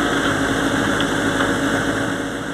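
Heavy machinery clears a mud-covered main road in the village of Kamares after a torrential downpour, its engine rumbling loud and steady at close range with a constant mechanical drone.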